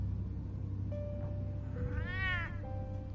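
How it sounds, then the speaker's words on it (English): A cat in Batman: The Telltale Series meows once, a clear rising and falling tone lasting about a second. Thin electronic tones and a low steady hum from the game run underneath. "Aw, little kitty."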